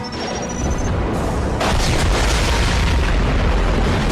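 A mech explodes in Mass Effect 2 with a loud, close, rumbling boom that swells partway through and keeps roaring as a dense, sustained blast without pause.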